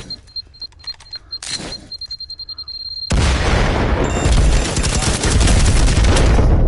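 Gunfire in a multiplayer shooter game: a few sharp separate shots come first, then dense, loud automatic fire and booming blasts pour out without a break to the end.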